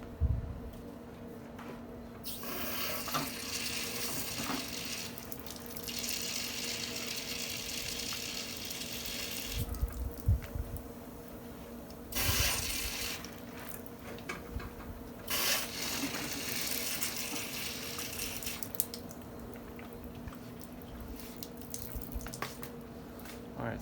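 Dirty water from a Toyota Celica heater core splashes and trickles into a bucket through a siphon tube, a steady pouring stream with intermittent surges and gurgles over a low hum.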